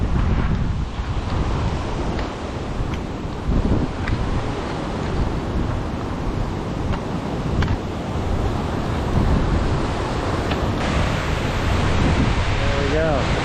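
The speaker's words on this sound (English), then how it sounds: "one more shot of the waterfall before we switch back down" The Big Pine Creek waterfall roars as a constant broad rush of falling water, loud and close, mixed with gusty wind buffeting the microphone.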